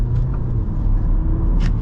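A 2024 Audi A4 Allroad with a dual-clutch gearbox accelerating, heard from inside as a steady, loud low engine and road rumble with no talking.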